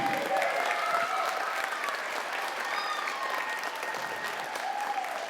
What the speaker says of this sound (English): Can you give us a round of applause?